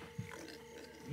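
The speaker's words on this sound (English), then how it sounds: "All pigs but Ruben, shut up" A pig in the video game Minecraft: Story Mode gives two brief, low grunts, one early and one at the end, over a quiet, steady game soundscape.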